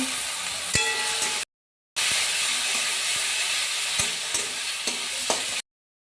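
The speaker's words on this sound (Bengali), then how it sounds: "এবার মশলাটাকে ভালো করে কষিয়ে নেব। কুচনো টমেটো দিয়ে দিলাম একটু।" Spice masala with chopped tomato is stir-fried in a pan: a loud continuous sizzle with scattered scraping and tapping of the spoon, cut by brief silent gaps.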